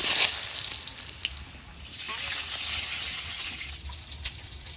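Potato pieces fry in hot oil in a pan, giving a steady, close sizzling hiss with faint crackles and no pauses.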